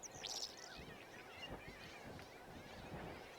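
A big flock of black-headed gulls over the open steppe gives harsh, overlapping calls, with one loud cry at the start, quieter excited chatter after that, and gusty wind throughout.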